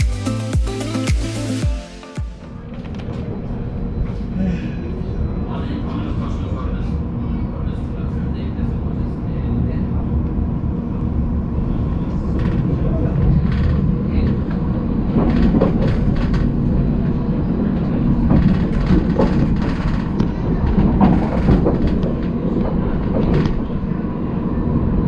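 A seven-car Stadler Variobahn tram of the Bergen light rail, line 2, rumbles steadily along the track with rising running noise and occasional clicks, heard from inside the car.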